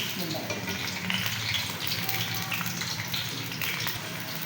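Onions sizzling in hot cooking oil for a karahi gosht, a steady close frying hiss with soft crackle throughout, no voices.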